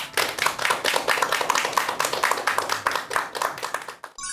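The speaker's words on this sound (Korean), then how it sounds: "여러분들 큰 박수 부탁드립니다." Audience applause at a lecture by a Korean classics critic, dense hand clapping from a crowd sustained for about four seconds before stopping abruptly.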